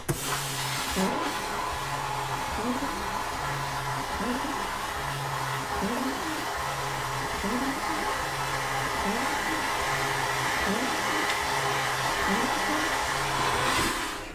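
A vapor blaster run on compressed air at 60 PSI hisses loudly and continuously against wood, a steady rushing blast that holds throughout with a faint repeating mechanical pulse beneath it.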